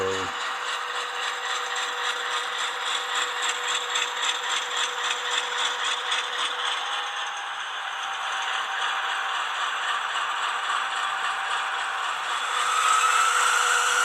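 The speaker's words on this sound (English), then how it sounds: "there's the dynamic brake sound" The dynamic brake sound of a ScaleTrains Rivet Counter AC4400CW model locomotive: a steady whirring, rattling mechanical drone with a fast pulsing texture, holding for many seconds before swelling louder near the end.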